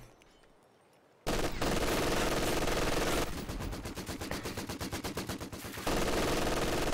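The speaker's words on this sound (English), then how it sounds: "Vickers versus MG42" Vickers and MG42 machine guns fire in the Company of Heroes 2 video game, a loud sustained chatter of rapid bursts that bursts in after a quiet start, with one stretch of fast, evenly spaced rounds.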